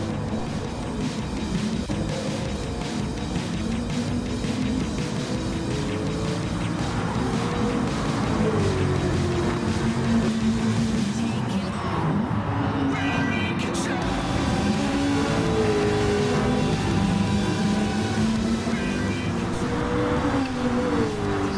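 A race car engine in the driving game Gran Turismo Sport, lapping a banked track, drones steadily and loudly throughout, its pitch rising and falling with gear changes and a brief dip in the middle.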